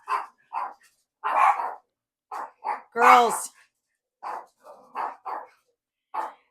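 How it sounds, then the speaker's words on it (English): Dogs bark at a FedEx delivery driver walking up a home driveway: one loud, close bark stands out amid stretches of a person talking. "I have no idea what they're barking."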